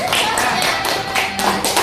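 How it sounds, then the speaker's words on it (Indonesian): Children in an elementary school class clap their hands in a short, lively burst with a few voices mixed in, close and fairly loud. "Ya, tepuk tangan"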